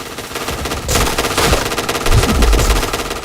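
Rapid automatic gunfire in the shooter game Point Blank, a dense rattling stream of shots with bursts and louder impacts, nearly continuous and close, with no talk over it.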